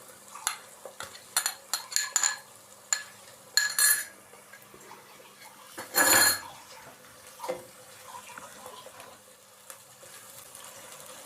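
Garlic-ginger paste and onion frying in a pan for chicken macaroni, with spoon scrapes and stirring clatter in uneven bursts over a soft steady sizzle, fairly close and moderately loud, no talking.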